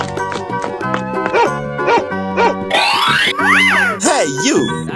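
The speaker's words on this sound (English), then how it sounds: "Dog." A dog barking in a playful cartoon style, with a string of short, bouncy yips and woofs over bright, springy music.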